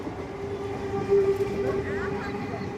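A train rolls past with a loud steady rumble and a tonal wheel or horn whine near the middle; a voice calls out over it.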